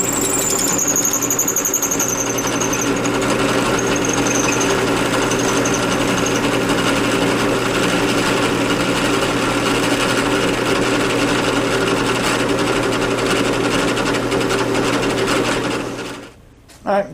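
A power drill bores pin holes through a knife handle, a loud continuous high whine held steady for most of the stretch before stopping abruptly near the end, with a brief spin-up after.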